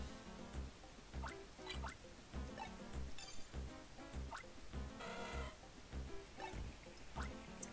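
Watering a vine in the Pokémon Ranger video game: a rapid, steady series of small dripping, plopping water blips in a regular rhythm, with brighter splashy bursts partway through, playing alone without talk.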